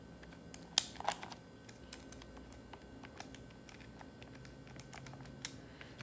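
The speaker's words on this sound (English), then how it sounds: "So now we type this in." Values are tapped into a calculator as a series of faint, quick button clicks, with one sharper click near the start, in a quiet room with no talking.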